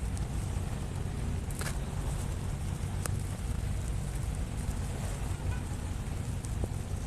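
Steady rain falls outdoors in a rural Thai setting where people are out gathering snails, a dense, even hiss with faint scattered drips, continuous throughout and close to the microphone.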